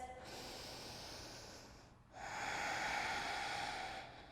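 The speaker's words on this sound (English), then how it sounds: "Take one more deep breath just like this." Two deep breaths during yoga practice, a long airy inhale and then a stronger, breathier exhale after a brief pause, close and clear with no talk.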